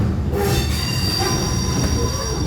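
Subway train wheels screech and squeal on the rails near the Yankee Stadium route in New York, a loud, continuous metallic whine with rumbling underneath, and no voices.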